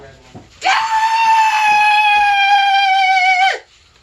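A person vocally imitates squirrels screaming outside a window in the morning: one loud, shrill, sustained scream lasting about three seconds, with faint background noise before and after.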